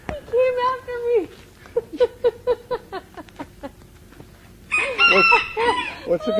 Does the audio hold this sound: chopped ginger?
no